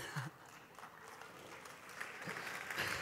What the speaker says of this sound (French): Je pensais jamais d'être applaudi à soir.